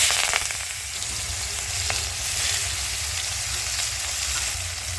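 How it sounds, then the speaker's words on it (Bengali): Chopped onions fry in a pan with whole spices, sugar and salt, a close continuous sizzle with crackling bursts and a low steady undertone, no voices. "পেঁয়াজ ভাজা হয়ে গেছে"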